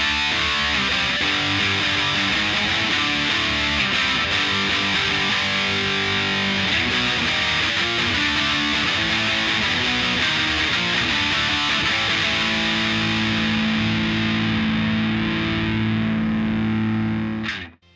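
An electric guitar plays punk-style chords through a cheap, roughly 35-dollar distortion pedal, producing a thick, saturated buzz. The chords ring continuously and change a few times, then cut off abruptly at the end.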